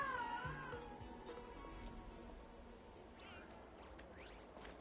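A cat in the video game Honkai: Star Rail gives a short, faint meow at the very start, followed by quiet game ambience and a few soft whooshes.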